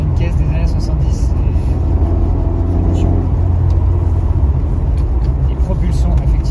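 1981 Talbot Sunbeam Lotus, a 150-horsepower, 950 kg rear-wheel-drive car, heard from inside while driving: a loud, continuous low engine rumble with road roar, and someone talking over it.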